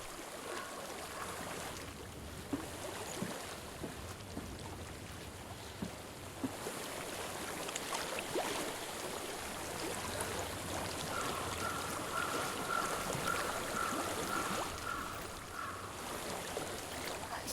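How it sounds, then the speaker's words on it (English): Stream water flows in Hellblade: Senua's Sacrifice, a soft, continuous rushing wash that stays quiet and even throughout with only slight swells. Nobody talks over it. "I hear water."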